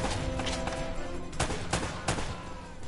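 Several close, sharp gunshots from a firefight in Uncharted: Drake's Fortune, irregular cracks over a dense wash of combat noise, loud with no speech.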